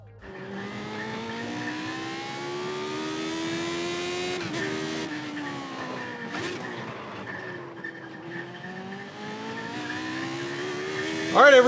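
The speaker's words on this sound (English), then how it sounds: "All right, everyone, so we're in iRacing right now, in the Lotus 79." Lotus 79 race car in the iRacing sim, its engine droning steadily with rising and falling revs through gear changes, loud and continuous, and a brief sharp squeal near the end.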